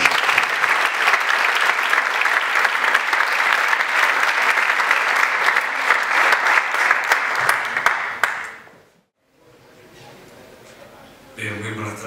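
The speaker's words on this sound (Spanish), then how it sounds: "Fuerte aplauso." A hall audience at the Andalucía Bike Race presentation in Linares gives strong, dense applause that holds steady for about eight seconds, then cuts off sharply into a quieter stretch with a little background sound returning near the end.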